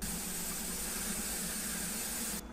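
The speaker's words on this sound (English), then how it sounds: "You saw the steam coming out and the float valve popped up." Steam vents in a steady, loud hiss from an Instant Pot Duo Evo Plus pressure cooker, continuous and close, cutting off sharply just before the end with no talk.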